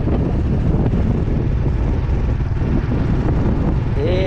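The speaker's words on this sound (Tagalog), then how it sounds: "Yan, lumalakas yung hangin yan." A typhoon's strong wind roars steadily across a farm, a loud and unbroken rush of buffeting noise with heavy low rumble and microphone wind blasts throughout.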